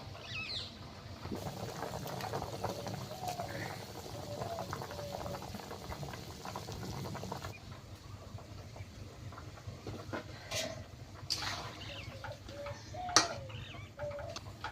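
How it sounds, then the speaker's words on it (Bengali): A pot of fish and potato curry bubbling steadily over the heat, a continuous soft boiling gurgle with faint ticking and a few clinks late on, close and fairly quiet. "তরকারি ফুটে উঠেছে, এবার মাছগুলো আস্তে আস্তে দিয়ে দিচ্ছি"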